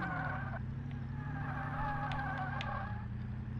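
A car drifting in the Car Mechanic Simulator 2018 video game, with skidding tires over a steady, loud engine drone that holds throughout and no talking.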